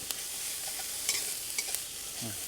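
Red ant eggs dry-roasting in a pan with a steady soft sizzle and a few scraping stirs of a utensil, close and fairly quiet, with no talking.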